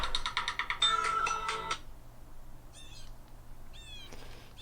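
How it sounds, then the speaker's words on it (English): A phone ringtone chirps in a quick repeating electronic pattern for about two seconds, then after a short pause short warbling trills sound twice more, fairly close and clear over a quiet background. "Stupid phone."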